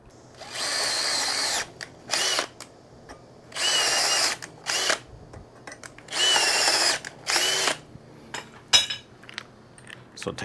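A cordless power drill drives lag bolts while a Vevor solar street light is mounted, whirring in several separate bursts of one to two seconds with short pauses and small metallic clinks between them, close and loud.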